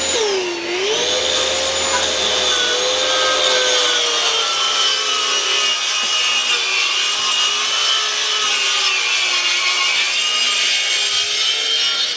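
A track saw runs along its guide rail, cutting a straight line through wood while building a wooden wedding arch. The motor whines steadily and close for the whole stretch with no pauses, and no one speaks.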